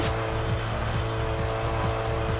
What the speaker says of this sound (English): I'm going over the top speed that the game told me I could go with this car.